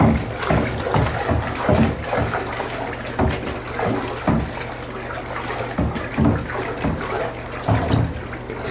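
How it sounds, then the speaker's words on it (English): Water in a bucket is churned with a mixing stick, giving steady sloshing and splashing strokes in a repeated rhythm, close and fairly loud throughout. "So much water, so we gotta mix it really good."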